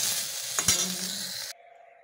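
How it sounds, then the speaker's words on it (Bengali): Fried brinjal stirred and scooped out of a pan of hot oil gives a loud, close sizzle with a sharp scrape of the spatula. The frying noise cuts off abruptly near the end, leaving near silence. "বেগুনটা ভাজা হয়ে গেছে, এবার আমি তুলে নেব।"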